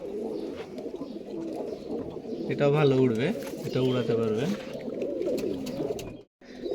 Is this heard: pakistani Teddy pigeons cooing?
yes